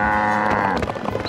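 A fat cartoon cow lets out a loud, close, drawn-out moo that holds steady before breaking into rougher, broken noise near the end.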